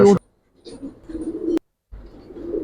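Soft, low coos of Giribaz pigeons murmur in short bursts with a brief pause between them, close by and fairly quiet.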